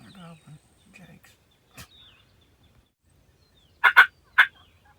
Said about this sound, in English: Yeah, they're gobbling.